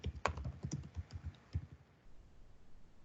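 Typing on a computer keyboard while entering text in CAD drafting software, a quick burst of close, crisp key clicks followed by a couple of isolated taps and then quiet.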